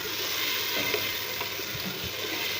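Onions frying until brown for a dhaba-style lauki dal hiss in a steady, close sizzle, with faint stirring clicks and no voices.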